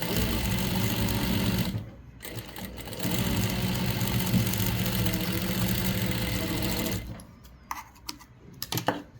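A sewing machine runs close and loud while under-stitching the front part of a katori blouse. The motor whirs steadily, stops briefly, runs again for several seconds, then halts, leaving a few soft clicks and handling sounds.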